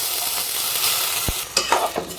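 Washed aroma rice frying in ghee in a pan for sweet kanika khechudi, a steady close sizzle with a few sharp stirring scrapes near the end.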